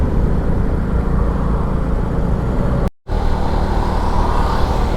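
Road traffic rushes past at night during a ride on a Suzuki Smash 115 motorcycle toward Catanduanes, a loud, continuous roar of vehicles with one brief dropout.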